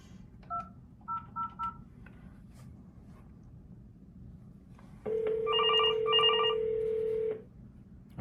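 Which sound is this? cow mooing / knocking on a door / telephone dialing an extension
telephone dialing an extension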